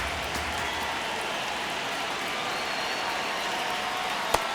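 Steady crowd roar fills a baseball stadium during a tense ninth inning in the video game MLB The Show 26, a broad continuous wash of cheering with a brief sharp pop near the end.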